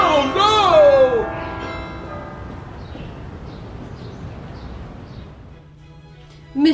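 A large bell rings out with a long resonant decay after a loud opening strike, the hum fading slowly and a brief voice breaking in at the very end.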